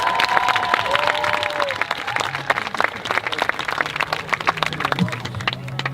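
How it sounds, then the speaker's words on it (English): An audience at an 8th grade school stepping ceremony breaks into dense, loud applause with scattered cheering, the clapping continuous and close throughout. "Please give a big round of applause for our Masters of Ceremony, Pedro and Alyssa."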